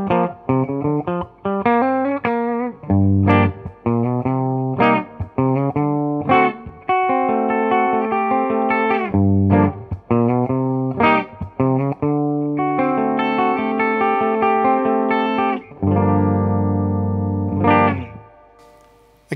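An electric guitar plays chords and single notes with a bright, clean amplified tone through a Fender Deluxe Reverb tube amp on the bridge pickup, ringing sustain and gaps between phrases, loud and close.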